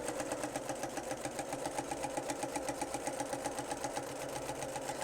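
A sewing machine with a walking foot stitching fabric at a stitch length of 2: a quiet, rapid, steady mechanical whirring and clatter with an even rhythmic pulse, heard alone.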